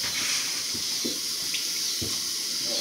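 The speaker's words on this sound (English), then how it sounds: "We're going to wash these artichokes off" Tap water runs into a kitchen sink as artichokes are rinsed under it, a steady moderate splashing stream with a few soft knocks and bumps of handling, no voices.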